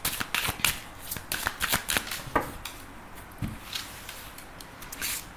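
Tarot cards being shuffled for a reading, a series of crisp, rapid riffling snaps and soft slides, close and fairly quiet, with short pauses between bursts.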